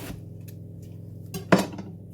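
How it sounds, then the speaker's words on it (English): A kitchen knife slices an onion on a chopping board, giving a few faint taps and then one sharper, louder knock near the end against quiet room noise. "And then we're going to slice our onion."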